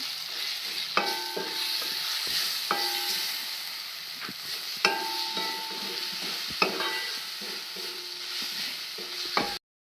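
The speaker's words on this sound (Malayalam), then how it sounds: "ഗരം മസാല പൊടി കുറച്ച് മഞ്ഞപ്പൊടി ശേഷം മഞ്ഞപ്പൊടി ഇതെല്ലാം കൂടെ നല്ലോലൊന്ന് മിക്സ് ചെയ്യണം" Spice-coated samosa filling being stirred after garam masala and turmeric go in: a continuous low sizzle broken by about six distinct spoon knocks and scrapes against the pan, close and without voices.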